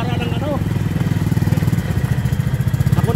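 A motorcycle engine runs steadily with a rapid, throbbing pulse, loud and close, while people talk over it.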